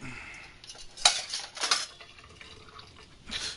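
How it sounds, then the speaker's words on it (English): Dishes and cutlery clinking as they are shifted aside on a kitchen counter in Genshin Impact, with a few sharp clatters in quick succession, fairly close and moderately loud, then quieter. "put these dishes aside for a second."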